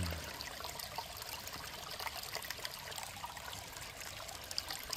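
Water rushes steadily through a gold-prospecting sluice box outdoors, a continuous broadband splashing and trickling that stays even throughout with no talk.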